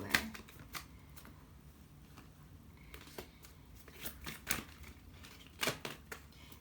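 Tarot cards being shuffled close by, a run of quiet, irregular papery flicks and snaps, no talk.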